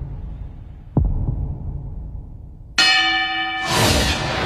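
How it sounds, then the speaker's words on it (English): A boxing ring's opening bell sounds for a featherweight championship bout in an anime. A single bright, ringing strike follows a dull thud, then a surge of crowd noise. "The opening bell for the featherweight championship match is about to ring."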